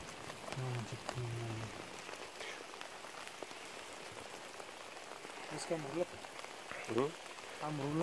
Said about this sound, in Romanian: plouă ca la Balamuc